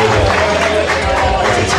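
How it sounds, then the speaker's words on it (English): An audience at a live music performance applauds and cheers, dense close clapping sustained throughout the short burst. "Let's give him one more round of applause."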